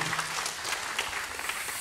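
A church congregation gives a short, steady round of thankful applause, dense clapping filling the room from start to finish.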